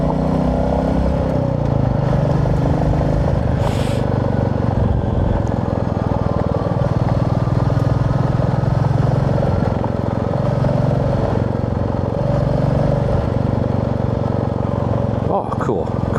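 A Royal Enfield motorcycle cruises along Lower Valley Road in the Beaver Valley countryside of Ontario, its engine a steady, loud drone close to the mic throughout, with wind rush, and someone talks over it.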